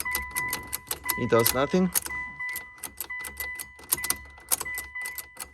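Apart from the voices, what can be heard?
key turning ignition switch of Mitsubishi Lancer, no crank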